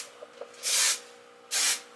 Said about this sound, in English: Let's put a little bit of hairspray.